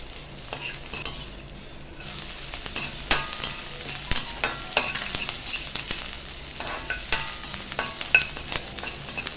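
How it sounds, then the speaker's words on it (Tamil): Small carrot and half a capsicum sautéing in a pan for instant rava idli, a lively sizzle punctuated by repeated spatula scrapes and taps against the metal, close up with no voices. "சின்ன கேரட் 1 அரை குடமிளகா போட்டு அதையும் வதக்குங்க"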